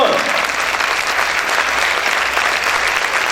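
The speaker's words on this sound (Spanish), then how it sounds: "¡Aplaude fuerte a tu Señor!" Loud, dense clapping from a church congregation worshipping during a sermon, a steady wall of hands close by with some voices mixed in.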